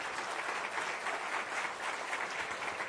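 A breakfast audience applauds itself at a Detroit Free Press event, steady dense clapping at moderate level throughout three seconds with no pause.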